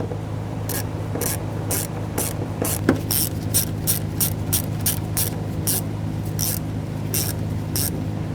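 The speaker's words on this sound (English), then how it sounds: "Once you have all of them started, go ahead and snug them down." Nuts being snugged down on the fuel pump retaining ring of a 2015-2019 Subaru Outback, a ratchet clicking in steady repeated bursts up close over a constant low hum, with no talking.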